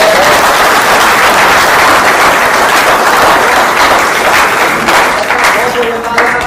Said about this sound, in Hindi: सर के लिए ताली